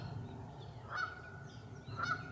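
Two loud goose honks ring out about a second apart over low background rumble, heard outdoors while turkeys are being called in late season.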